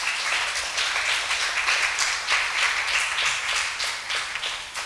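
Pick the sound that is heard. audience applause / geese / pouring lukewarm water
audience applause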